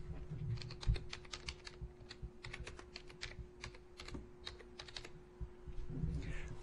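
Keys clatter softly on a computer keyboard in quick, irregular bursts of typing, faint and close, with a low steady hum underneath.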